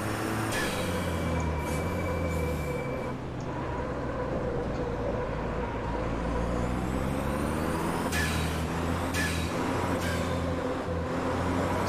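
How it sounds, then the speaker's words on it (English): Australian Super Truck racing in Automobilista at the Australian Grand Prix, a heavy diesel engine droning with whooshing turbo spool and sharp hissing air-brake-like releases, loud and continuous, with no talk. "Turbo sounds awesome"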